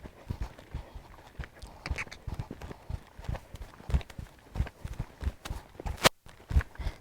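Horse hooves cantering during a riding lesson in an arena, a steady rhythmic three-beat thudding of hoofbeats, fairly close and moderately loud, with no talking over it.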